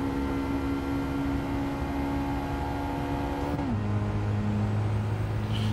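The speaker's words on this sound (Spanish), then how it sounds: "Ya el sonido es bastante evocador para ser un coche pequeñito, son cuatro cilindros" A small four-cylinder car in Gran Turismo 7 holds a steady, loud engine drone that drops abruptly in pitch partway through, as if shifting gear, with constant road and wind noise.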